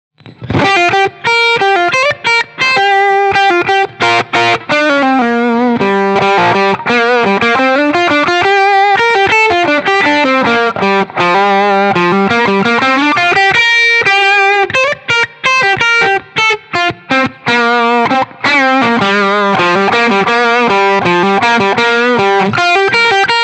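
An electric guitar plays a continuous bluesy riff through a Boss Blues Driver overdrive pedal, loud and gritty, with bent notes and no voices.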